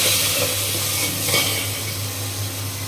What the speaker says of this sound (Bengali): আমি এখন এই ঘিয়ের মধ্যে চাউল ভেজে নেব